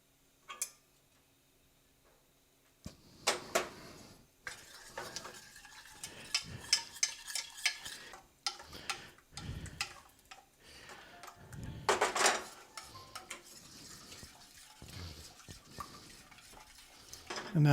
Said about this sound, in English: now we're going to stir this for a bit